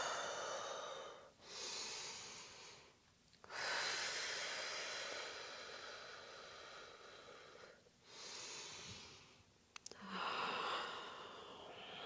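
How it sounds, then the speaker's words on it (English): Slow, deep breaths during a hatha yoga stretch, several long audible inhales and exhales with short pauses between them, close and fairly quiet with no talking. "Really breathing into the stretch."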